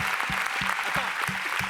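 Audience applause at the Prix Maeterlinck de la Critique award ceremony, steady clapping from a seated crowd, moderately loud, with a repeating low tone pulsing underneath.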